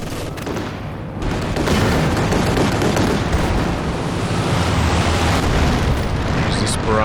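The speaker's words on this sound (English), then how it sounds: "There's this barrage action coming in there as well." Artillery barrage in Company of Heroes 2 rolls as a dense, continuous wall of booming explosions, loud and unbroken for several seconds after a slightly quieter opening.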